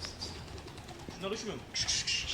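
A flock of posta pigeons flies overhead, faint wing flapping and soft cooing against outdoor background noise, ending in a brief louder flurry of wingbeats.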